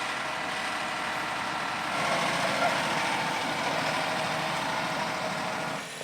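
A new farm tractor idles out in a field during crop spraying work, giving a steady, continuous engine rumble at moderate distance with no pauses, swelling slightly in the middle before easing off.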